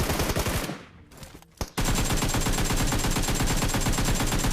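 Rapid automatic gunfire from a PUBG Mobile match bursts out close and loud, stops briefly for a second or so, then resumes as a sustained, evenly spaced stream of shots.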